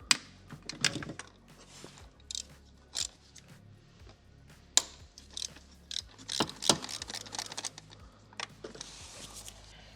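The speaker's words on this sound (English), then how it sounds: "now I'm gonna open these bolts on the return pipe" A wrench loosens bolts on the fuel return pipe of a Toyota: irregular metallic clicks, ratcheting ticks and small clanks, close by and fairly quiet, with brief pauses between them.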